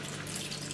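Slightly salted drinking water being poured into a pan, a brief, soft, steady splashing trickle close by.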